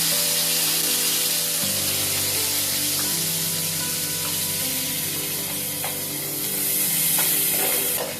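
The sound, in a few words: chopped onion and garlic cloves frying in oil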